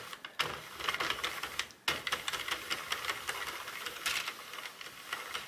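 A Sentro knitting machine cranks through a round of yarn, giving steady close-up mechanical clicking and rattling that stops briefly early on and again just before the two-second mark, then continues evenly with no voices.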